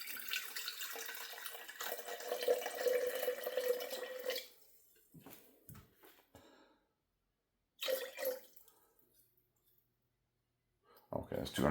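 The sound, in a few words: distilled water being poured into a jar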